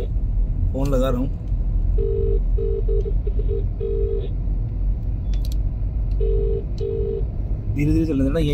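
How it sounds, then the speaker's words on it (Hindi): A phone keypad beeps out a number in short, evenly spaced tones inside a moving car, over steady engine rumble, with people talking briefly at the start and end. "फोन लगा रहा हूँ।"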